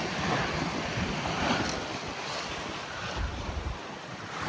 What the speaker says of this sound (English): I'm on my knees because these are big swells.